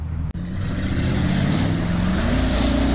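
An Audi's engine revs loud and steady while the car drives through ruts, with the pitch slowly rising over a few seconds.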